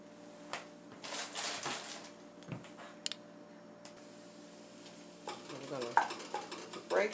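Ground turkey cooking in a Dutch oven, a faint steady sizzle with occasional scraping and stirring clatters from a utensil against the pot, sparse and close.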